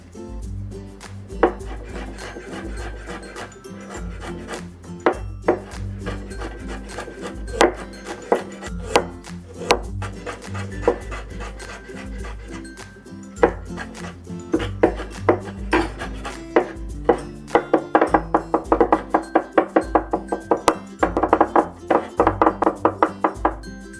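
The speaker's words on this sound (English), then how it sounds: "next let's mince up the ginger and garlic" A knife mincing ginger and garlic on a cutting board gives rapid, close, repeated chopping thuds that speed into dense bursts toward the end, all without talk.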